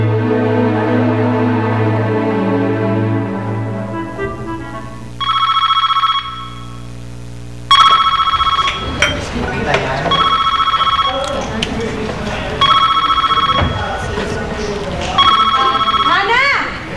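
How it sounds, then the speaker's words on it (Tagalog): A cellphone ringtone repeats in bright electronic bursts, loud and near, after a stretch of music, with a voice speaking over part of the ringing. "Yung cellphone mo nag-ring."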